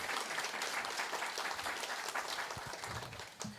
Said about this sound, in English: you need to give them a big round of applause